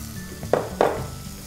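Vegetables tipped into a hot pan for Udupi sambar give two quick bursts of sizzle with light clinks of utensils against the pot, brief and close.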